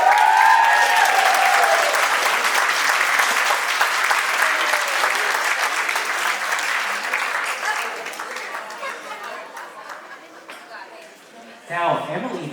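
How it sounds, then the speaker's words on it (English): Wedding guests break into loud applause with some cheering, a dense burst of clapping that gradually fades over several seconds before a voice begins speaking at the end. "let's give Matt a big round of applause"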